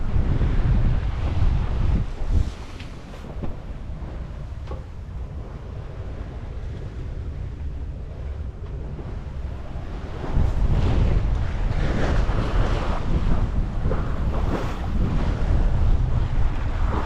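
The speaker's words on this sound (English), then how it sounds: "we're under sail, no motor, with about 10 knots of wind" Steady wind roars across the microphone aboard a sailboat under sail at sea with no motor, about 10 knots of breeze, mixed with wash of waves along the hull; the noise swells louder in the second half.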